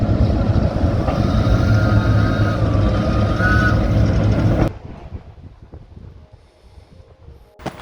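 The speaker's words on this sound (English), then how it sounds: "So this is a diesel train." A diesel train rumbles past loud and close for several seconds with a tonal engine whine, then abruptly drops away to quiet background.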